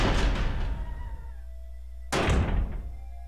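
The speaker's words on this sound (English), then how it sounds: "And we want to go through this door." A door opening in Resident Evil HD Remastered, heard as two loud thuds: a heavy thump at the start that fades out, then a second sharp bang about two seconds later over a steady low hum.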